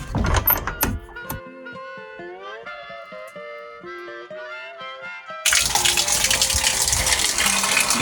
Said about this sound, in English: It's open air shower.